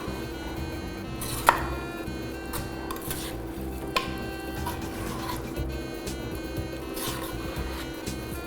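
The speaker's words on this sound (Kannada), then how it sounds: "ಈಗ 1 ಸೆಕೆಂಡ್ ಹಾಗೆ ಸಾಫ್ಟಾಗಿ ಇದನ್ನು ತಿರುಗಿಸ್ಕೊಳ್ಳೋಣ" Mushroom biryani gently stirred in a cooking pot: quiet scraping and soft shuffling of rice, with an occasional sharp clink of the spoon against the metal, over a faint steady kitchen hum.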